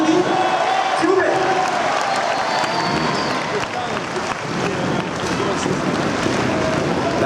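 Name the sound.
crowd applauding a motorcycle rider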